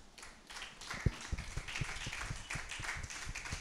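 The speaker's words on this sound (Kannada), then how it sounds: "ಚಪ್ಪಾಳೆ ತಟ್ಟೋಣ." Church congregation clapping together at a Sunday service, a quick, fairly even rhythm of claps heard at moderate distance in a reverberant hall.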